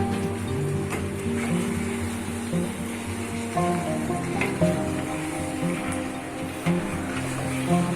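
Spiced chicken pieces cooking down in a pan, a steady, close sizzle and frying hiss with occasional stirring, accompanied throughout by a tonal background hum.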